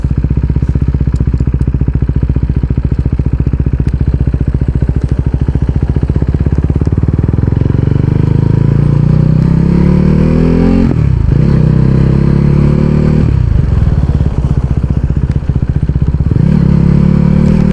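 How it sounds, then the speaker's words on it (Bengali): A higher-cc motorcycle on a seaside road revs loudly and close, its engine pitch climbing steadily and dropping at gear shifts, with a continuous roar and no talking. "আমি আসছি বাইক নিয়ে টানাটানি করার জন্য"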